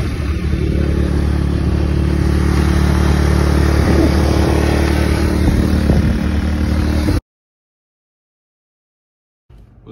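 A quad ATV's engine idles and revs loudly up close for about seven seconds with some clatter, then cuts to silence before a brief return at the very end.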